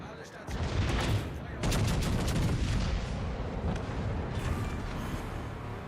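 Warship guns fire in World of Warships Legends as heavy booming salvos crash out in two or three bursts, with rumbling echoes and scattered impacts trailing off, all loud and close.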